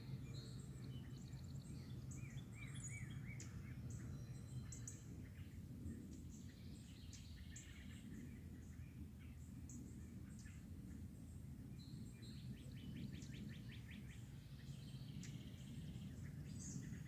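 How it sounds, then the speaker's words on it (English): Morning birds chirp and twitter in scattered, fairly faint calls over a steady low rumble of background noise, with no one talking. "The birds are happy this morning."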